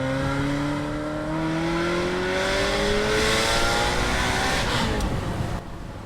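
A Ferrari 348 accelerates hard from inside the cabin, its engine note climbing through the revs with a gear change, then easing off, loud and close throughout.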